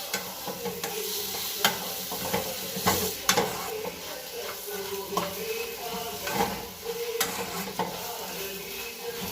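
Chopped tomato sautéing in a pan for a chicken roast, a steady close sizzle with repeated scraping stir strokes and soft utensil clinks, no talking.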